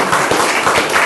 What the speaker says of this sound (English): I think we need to give her applause for that